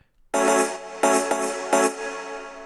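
A synthesized choir-like vocal pad playing a few chords in succession, bright and airy, each new chord swelling in over the last.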